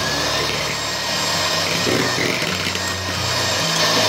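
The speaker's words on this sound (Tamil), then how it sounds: "இதை பிளெண்ட் பண்ணிக்கலாம்." An electric blender runs continuously and loudly up close, churning Bournvita cake batter with olive oil and refined oil in a steady dense roar with no pauses.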